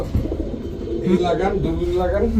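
Low, throaty pigeon cooing rolls on close by while a person talks over it.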